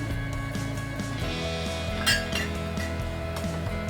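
A spoon clinks and scrapes around a pot of black chicken stew seasoned with oyster sauce and light soy sauce, with repeated light metallic taps over a steady background hum.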